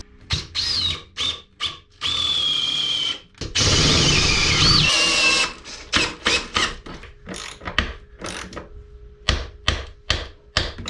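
A power drill or driver whirs in short bursts while fastening keel bolts into the wooden floors of a boat under restoration, with one longer run in the middle and clicks and knocks of handling between, close and without speech.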